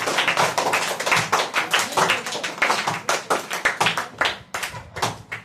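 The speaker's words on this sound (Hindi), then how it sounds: "इनके नाम पे जोरदार ताली बजाइए।" Applause in a classroom, a brisk run of clapping hands with uneven rhythm from a small group, sharp and fairly close, steady for several seconds without talk.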